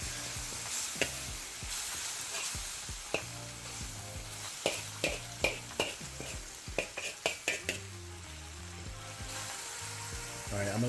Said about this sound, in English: We'll let that stir fry with all of the ingredients.